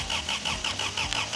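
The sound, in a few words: scrap-built car engine cranking but not starting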